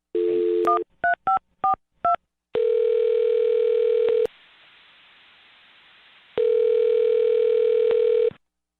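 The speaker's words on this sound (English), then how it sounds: "I'm going to dial his phone number right now and see if we can figure it out for you." A telephone line with a steady dial tone, then a quick series of short touch-tone dialing beeps, followed by two long ringback tones separated by a quiet pause, loud and close with no talking.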